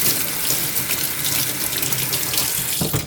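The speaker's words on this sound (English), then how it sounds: "let me wash my hands." Water runs steadily from a kitchen tap into a sink for hand washing before preparing chicken, a continuous close hiss and splash that ends abruptly near the finish.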